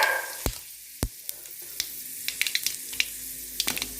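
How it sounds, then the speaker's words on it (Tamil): Mustard seeds and urad dal frying in hot oil for a spicy chutney, a soft continuous sizzle punctuated by sharp crackling pops and spatters, close and fairly quiet. "கடுகு போட்டுக்கோங்க, கொஞ்சம் உளுந்து போட்டுக்கோங்க"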